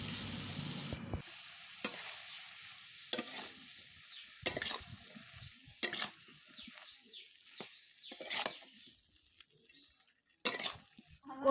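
Spice paste with jackfruit and potato sautés in a pan, sizzling softly while a spoon stirs in intermittent bursts of scraping, close and fairly quiet between strokes.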